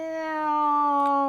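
A cat gives a single long, drawn-out meow, close and clear, holding a steady pitch that sinks slightly toward the end with no talking over it.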